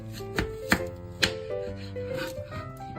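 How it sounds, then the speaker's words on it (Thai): A kitchen knife slices a peeled, washed onion in half on a board, giving a few crisp separate chops over soft scraping, near and clear with no speech. "ล้างน้ำเสร็จแล้วเราจะหั่นครึ่งน้องแบบนี้ค่ะ"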